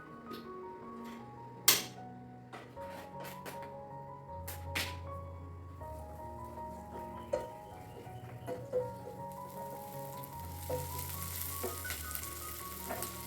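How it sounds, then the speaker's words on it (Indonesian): Spice paste for sayur lodeh sautés in oil in a pot with a quiet sizzle, broken by sharp clinks and scraping stirs of a utensil, and faint background noise with tonal hums. "terusnya aku kasih minyak, lanjut si bumbunya aku tumis"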